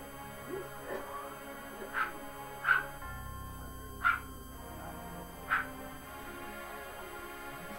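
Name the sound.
dog barking and whimpering in the background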